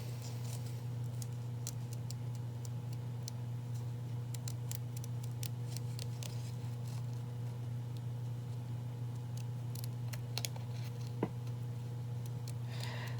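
Small scissors make repeated quick snips while trimming the white border off stickers, crisp clicks scattered over a steady low hum in a quiet room.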